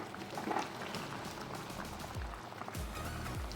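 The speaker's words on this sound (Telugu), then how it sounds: "దగ్గర ఉడుకుతుందండి వాటర్ అంతా సగమైంది ఇది ఇంకాస్త దగ్గర పడాలి" Country chicken curry with tamarind leaves simmers in a pot, its water reduced by half, giving faint, steady bubbling and soft popping with a few low thumps.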